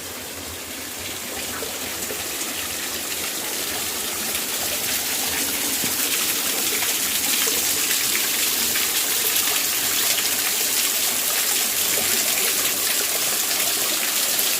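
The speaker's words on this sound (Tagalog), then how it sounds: "So ito na lang po yung umagos dito. Konting-konti lang talaga." Thin trickle of water at Busay Falls in Maonon, Ligao City, with very little flow; a steady, close, hissing run of water that swells slightly after the opening seconds and keeps going without a break, with no voices.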